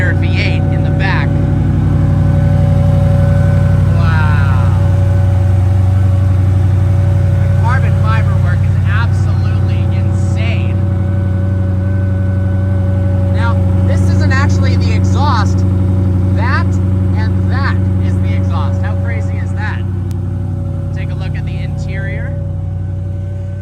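The 5-liter V8 of a Koenigsegg Regera runs at a deep, steady, loud idle throughout, with a slight swell partway through and people talking over it.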